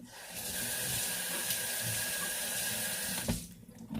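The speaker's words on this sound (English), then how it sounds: "rinse it off with the tap water" Tap water runs steadily into a kitchen sink, rinsing a funnel just used for grape juice, a continuous splashing hiss that cuts off abruptly near the end, leaving near silence.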